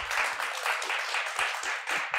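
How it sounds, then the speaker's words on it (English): An audience bursts into applause for the speaker, dense rapid clapping from a roomful of people, steady and moderately loud throughout the short burst. "give you a round of applause a little bit louder to Daniela"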